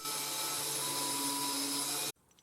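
An angle grinder cleaning a large piece of metal stock runs steadily with a loud, even, high whine for about two seconds, then cuts off abruptly, leaving faint quiet noise.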